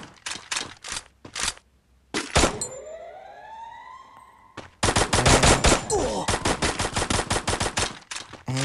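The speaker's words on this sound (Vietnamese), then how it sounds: "Có thằng bắn đúp" Rapid bursts of automatic gunfire from the Free Fire mobile shooter game, loud and close, broken by a rising whooshing swoop before another long rattling volley.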